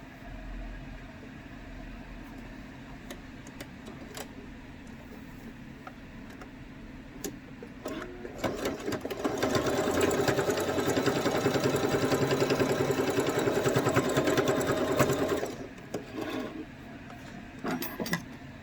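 A sewing machine stitches the sides of a fabric mask, a dense rapid mechanical whirr running for several seconds in the middle, framed by quieter handling clicks and ticks before and after.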